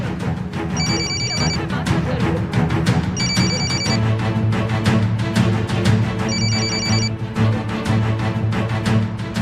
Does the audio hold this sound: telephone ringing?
yes